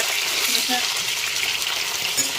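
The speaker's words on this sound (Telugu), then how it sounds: "వంకాయలని ఫ్రై చేసుకుందాం" Eggplants fry in a pan for gutti vankaya masala, giving a steady, close sizzle and crackle of hot oil throughout.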